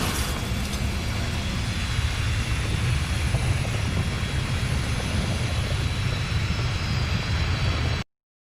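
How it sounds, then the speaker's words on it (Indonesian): A fighter jet roars steadily across the whole stretch, a dense, loud, broadband rumble with a faint high whine on top, then cuts off abruptly near the end. "Mereka melakukan perjalanan mereka sendiri dengan menaiki pesawat tempur melintasi Amerika Serikat."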